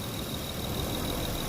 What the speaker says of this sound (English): I do notice that the engine is struggling to breathe.